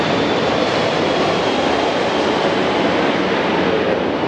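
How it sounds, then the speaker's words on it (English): A United airliner passes overhead with a loud, steady jet roar that stays constant and close throughout, with no voices. "Let's wait for that next United flight here."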